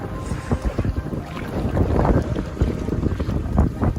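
Traxxas Spartan RC boat running on open water with waves, a rough churning hull-and-spray rush with heavy wind buffeting the microphone, continuous and fairly loud.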